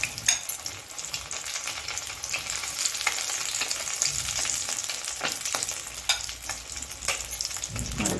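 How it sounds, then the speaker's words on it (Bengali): Bengali fish chops made from loote fish, coated in cornflour and biscuit crumbs, fry in hot oil until golden brown. A steady, crackling sizzle runs close and loud throughout with small spatters and no talk. "এটা গোল্ডেন ব্রাউন অবধি ভাজবো আমরা"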